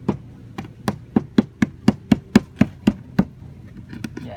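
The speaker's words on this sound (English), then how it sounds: "you're just gonna smash them a little bit like this, and then you start grinding them" Acorns are smashed with a hard tool in a run of about fifteen sharp, evenly spaced strikes, loud and close, slowing and softening at the end, with no voices.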